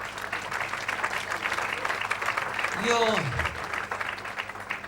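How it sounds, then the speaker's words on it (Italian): Applause from a theatre audience at a live comedy show in Rome, steady clapping throughout with a single spoken word over it and a brief whooping sweep near the middle. "merita il vostro applauso"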